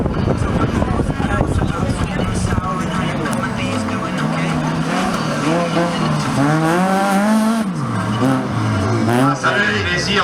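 Race cars at a French folk race (Fol'Car) event in Laon roar and rev continuously, tires squealing, while a commentator talks over the engines throughout.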